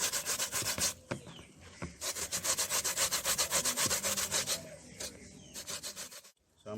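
A carrot rubbed against a hand grater to make carrot dumplings, giving a steady run of close, loud rasping strokes with short pauses between bursts.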